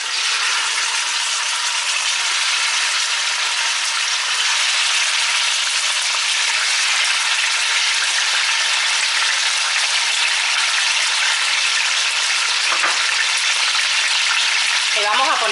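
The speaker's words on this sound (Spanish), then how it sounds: "cuando el aceite ya esté calentito vamos a ir agregando los contramuslos de pollo" Chicken thighs fry in hot oil in a pot, giving a loud, steady, close sizzle that roars on without pause, with a brief scrape or rattle near the end.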